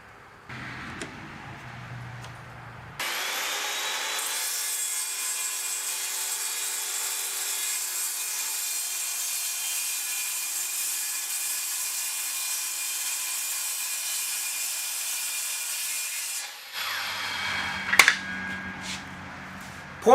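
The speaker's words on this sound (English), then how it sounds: "So I'll just use my circular saw to cut this side right here." A circular saw rips through a wooden cornhole board panel in one long, steady, loud whine lasting about fourteen seconds, starting abruptly and cutting off before a few light knocks and handling sounds.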